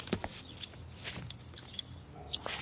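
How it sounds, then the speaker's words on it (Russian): A bunch of keys is handed over in a quiet room, giving a run of light metallic jingles and clinks in irregular bursts at close range. "Ключи давайте."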